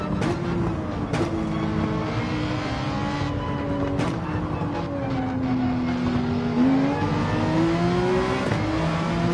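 Race cars lapping together in Gran Turismo 7: a continuous engine whine rising and falling through gear changes, with sharp shift clicks and a second car's engine layered close behind. Steady and fairly loud.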